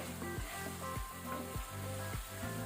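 Masala paste frying in oil over a medium flame, a steady close sizzle with a faint repeating low whoosh roughly every half second, like a spatula stirring, and no voices.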